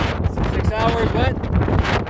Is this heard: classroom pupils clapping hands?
no